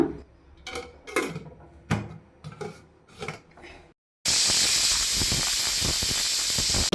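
A pressure cooker whistle releasing steam while idli sambar is being cooked, heard as a sudden loud, sustained hissing jet that comes in after a stretch of softer kitchen clatter and continues steadily.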